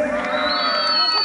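A loud crowd at a rural jaripeo in San Miguel de Allende cheers and whoops, with high, sustained shouts and yells layered over one another throughout the brief moment.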